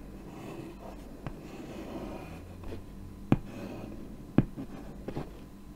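Chalk scrapes across a chalkboard close by in short scratchy strokes, with several crisp taps as the chalk strikes the board. There is no speech.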